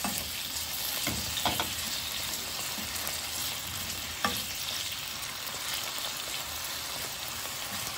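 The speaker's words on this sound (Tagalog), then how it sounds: "Lutuhin ko muna yung ating patatas." Potatoes frying in a pan for a chicken kaldereta, a steady close sizzle with a few louder pops and crackles, no voices.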